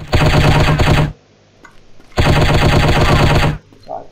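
Bursts of automatic gunfire from the shooting game Striker, chapter 4: two long, loud, rapid-fire volleys separated by a short pause, with no talk over them.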